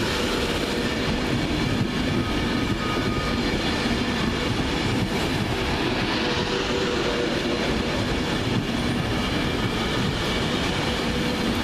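An 11-coach Pendolino train rushes past at Crewe station. Dense, continuous rail noise with wheel rumble and clatter holds steady for about twelve seconds, fairly loud and with no voices.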